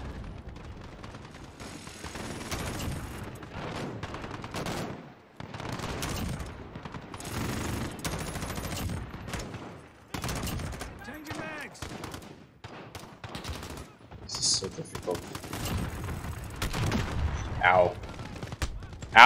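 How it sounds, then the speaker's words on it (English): Multiplayer firefight in Call of Duty Modern Warfare (2019): repeated bursts of automatic fire and sharp shots in irregular clusters with brief gaps, loud and close, mixed with game sounds and a voice talking throughout. "there's a guy shooting at me from the fucking direction of the sun"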